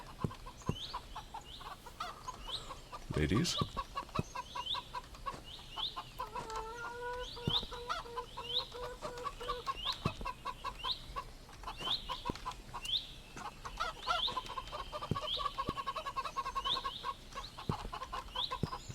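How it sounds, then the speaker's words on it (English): Hens in a horror video game cluck and crow repeatedly over a steady ambient backdrop, with a brief louder thump partway through and a single voice calling out. "We keep an eye on those chickens."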